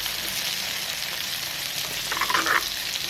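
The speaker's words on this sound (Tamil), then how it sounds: "வெங்காயத்தை போடுவோம். இப்போ இது நல்லா வதங்கட்டும்." Onions sizzle and fry in a pan for a Jaffna-style spicy quail dish, a steady close hiss with a brief burst of stirring or spattering near the end, no voices.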